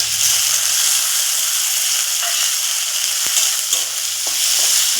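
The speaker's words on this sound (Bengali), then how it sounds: "এখন আমি নাড়াচাড়া করে আলুটা খুব সুন্দর করে একটু ভাজা ভাজা করে" Potatoes fry in oil with ground cumin and ginger, giving a loud, steady sizzle broken by the scrape and clatter of stirring in the pan.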